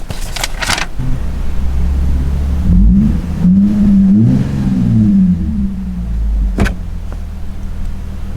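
A Lexus IS250 engine with a new RR Racing tune turns over and catches, then revs up and down a few times in rising and falling surges before a sharp click near the end.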